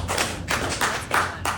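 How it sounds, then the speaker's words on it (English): Scattered audience clapping in short bursts at a comedy-style stream, a few hands slapping unevenly with soft thuds between, fairly near and brief. "So clap if you agree."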